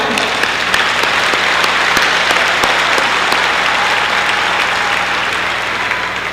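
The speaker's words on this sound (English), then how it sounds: "you can go ahead and clap if you would like" Loud, sustained applause from a large audience at a community college commencement ceremony, a dense steady wash of clapping that runs the whole length without pause.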